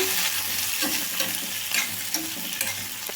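Cumin seeds frying in hot oil make a bright, continuous sizzle up close, with soft crackles and occasional light scrapes of stirring throughout.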